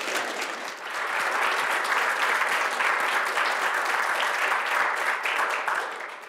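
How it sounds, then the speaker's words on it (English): Studio audience applause welcoming speakers at a business event, a dense, steady wash of clapping from many hands that swells quickly, holds for several seconds and tapers off at the end. "let's give a warm welcome and applause to our speakers today"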